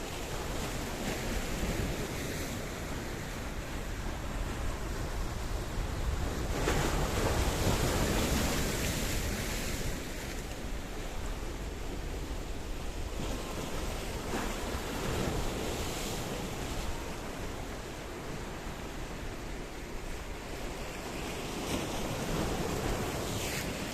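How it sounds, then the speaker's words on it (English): Choppy, rough sea waves wash steadily at Paphos harbour in Cyprus, a broad continuous roar of surf with gusts of wind buffeting the microphone, loud and close with no voices. "Today the sea was chopsy, a little bit of angry."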